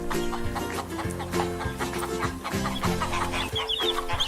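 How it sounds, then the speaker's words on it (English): Chicken clucking in steady repeated bursts, close and clear, over a continuous musical backing. "Chicken,"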